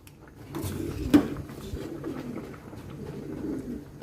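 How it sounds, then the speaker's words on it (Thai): Soft pigeon cooing sits in a quiet room, with a brief clatter near the start and faint background rustle throughout. "เสียงนกพิราบเลยค่ะ"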